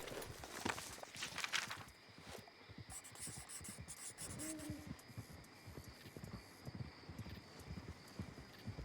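Horse hooves clip-clop steadily along a dirt track as a horse-drawn wagon approaches in the Red Dead Redemption 2 video game, with a brief whinny and rubbing, creaking sounds over outdoor ambience.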